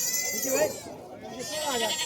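A goat at a livestock market in Pathardi, Maharashtra bleats close by with wavering, nasal cries, twice in quick succession, amid background chatter.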